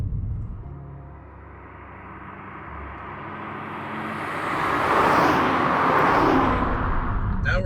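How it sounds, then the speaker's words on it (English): A BMW F30 335i with the N55 engine is driven, its steady road and engine drone building to a louder, broadband rush midway, heard from inside with no talking. "Now let's go drive the other car."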